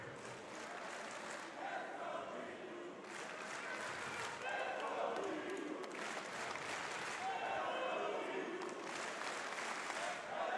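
Crowd cheering and applause at the Rainbow Six Siege Munich Major esports event, a broad, steady roar from a large arena audience that swells and stays loud throughout.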